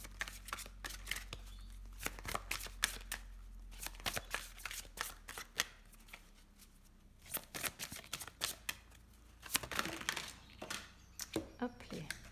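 An oversized Isis oracle card deck, larger than the hands holding it, is shuffled with close, irregular bursts of card slaps and riffles. A low steady hum and occasional talking run underneath.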